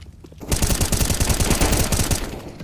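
Assault rifle gunfire in CS:GO, a loud sustained burst of rapid automatic shots with a sharp, evenly spaced rhythm, alone without talk.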